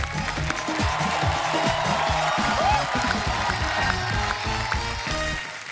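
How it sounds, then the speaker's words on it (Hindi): A large studio audience on The Kapil Sharma Show applauding and cheering continuously, dense clapping with scattered whoops and crowd noise throughout. "जोरदार तालियां।"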